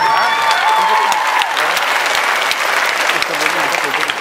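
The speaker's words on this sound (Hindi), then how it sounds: "बजा तो दीजिए एक बार जोरदार तालियां" A live audience at a stage show in Agra bursts into loud, dense applause that carries on strongly for several seconds, with a voice heard over the start.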